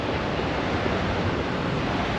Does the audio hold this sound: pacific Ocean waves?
yes